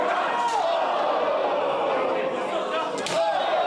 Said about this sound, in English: Crowd chants uno mas.